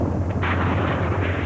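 TOW missile impacts and explosions from a Marine Cobra attack helicopter strike, a loud continuous rumbling roar of blasts with a sharp burst near the start, close and alone.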